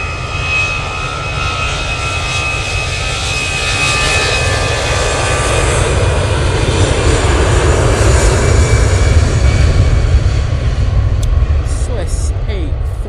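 A Swiss airliner's jet engines roar steadily at Manchester Airport, a loud, continuous rumble and whine sustained throughout.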